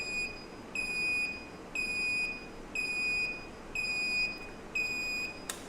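An LED buzzer circuit on a lab bench beeps in a steady rhythm, six short shrill tones evenly spaced about a second apart, clear and close with no talking.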